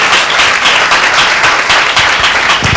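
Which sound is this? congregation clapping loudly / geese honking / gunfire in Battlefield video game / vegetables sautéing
congregation clapping loudly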